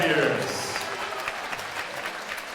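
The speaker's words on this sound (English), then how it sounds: "let's get a nice round of applause out here for both of these warriors" Crowd at a boxing match claps after a six-round bout, a brief burst of applause that fades quickly as an announcer's voice carries on over it.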